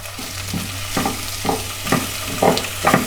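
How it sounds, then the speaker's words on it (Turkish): Rice toasted in a pan, with corn just added, sizzles steadily while a spoon scrapes and stirs it in regular strokes about every half second, close and clear, with no talking. "Pirinçlerimiz yeteri kadar kavruldu. Hemen üzerine mısırlarımı da ekliyorum."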